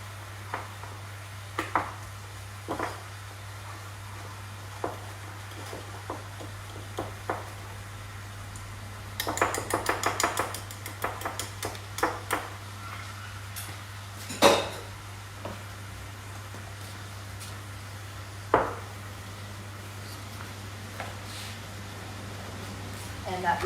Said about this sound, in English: Grab a whisk and just get out any lumps.